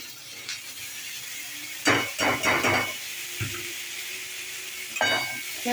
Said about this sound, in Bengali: এবার এই বটবটি সিদ্ধটা দিয়ে দেবো এর মধ্যে